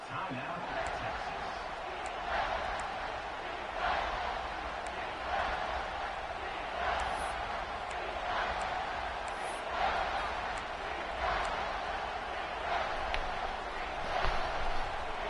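Stadium crowd in a college football video game, a steady roar with periodic swells of cheering through a tense defensive stand, continuous and loud with commentary talk mixed in.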